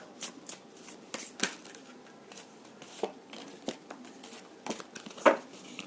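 Tarot cards being shuffled by hand, a steady run of soft riffling flicks and papery slaps with a few sharper snaps, close and fairly quiet with no talking.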